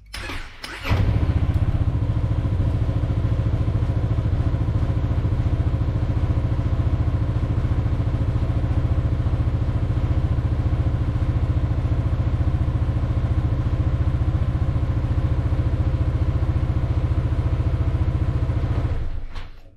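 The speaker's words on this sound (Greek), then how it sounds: "Οπότε πρέπει να βάλουμε το μηχανάκι μπροστά." A Zontes 368G motorcycle engine cranks and catches, then idles with a steady, even rumble for a long stretch before cutting off.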